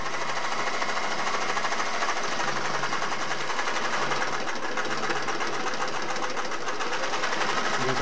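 Singer Model 401A sewing machine stitching continuously, a steady fast mechanical clatter with even rhythm, loud and close throughout, running alone with no voices.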